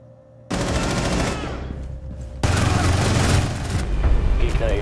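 Rapid automatic gunfire from a Vector SMG in the video game Rainbow Six Siege, loud and sustained in dense bursts with sharp onsets, broken by a brief pause before firing resumes.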